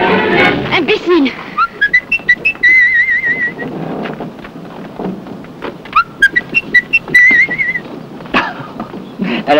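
A person whistles a short little tune in bright, wavering phrases, breaking off and starting again, with a spoken voice between the phrases.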